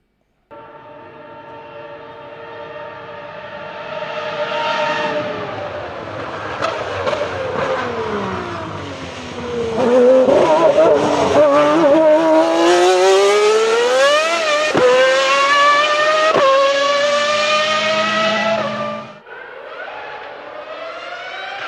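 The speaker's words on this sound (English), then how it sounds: "The best sounding F1 engine, the Ferrari 3." A Ferrari 3.0-litre V10 Formula 1 engine races past at very high revs, its loud, shrill wail climbing in pitch through several quick upshifts and then dropping away as it passes.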